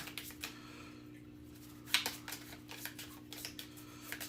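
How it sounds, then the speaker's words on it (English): Deck of cards for the Final Girl board game being shuffled on a table, quiet rapid riffling and flicking with a sharper snap near the middle, close and soft, without talk. "let's pop 1 there, and then we'll give it a good shuffle"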